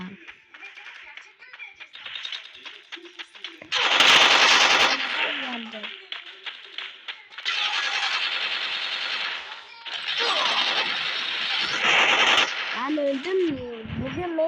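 Free Fire gameplay carries bursts of rapid automatic gunfire, loud and close, broken by short pauses, while a voice talks over parts of the action.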